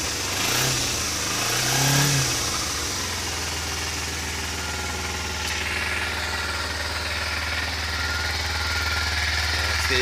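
Kawasaki Ninja motorcycle engine running with the choke on, rising in two quick revs early on and then settling into a steady, loud, high idle.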